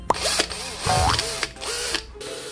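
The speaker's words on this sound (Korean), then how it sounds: "자 이렇게 구멍을 뚫었어요" A plastic tube being drilled through, a close whirring and grinding in a couple of short bursts separated by brief pauses, with faint clicks between them.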